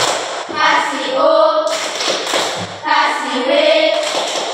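Patterned clapping from a class giving a tepuk hebat cheer, clusters of claps and hand taps alternating with sung, chanted syllables from many children, loud and near.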